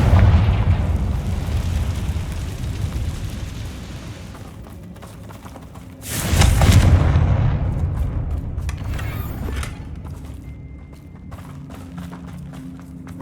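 A Confringo spell explosion in the Hogwarts Legacy video game: a sudden loud blast bursts out midway, then rumbles and fades over a low continuous game background, with no talking over it.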